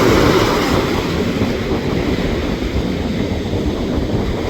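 Continuous roar of ocean surf with heavy wind rumble against the microphone, steady and loud with no voices.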